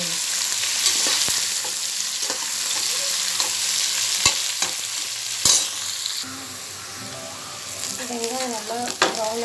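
Thinly sliced onions fry in hot oil for biryani, giving a steady sizzle with occasional stirring knocks, and a voice talks faintly near the end.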